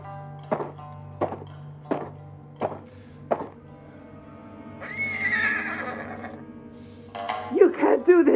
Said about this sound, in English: Miko is my horse.